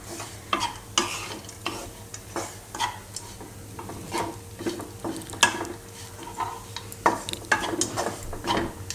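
Dry fruit roasting with mung dal shiro in a pan over a very low flame, a spoon scraping and stirring in steady irregular strokes over a faint continuous sizzle, close and fairly quiet with no talk.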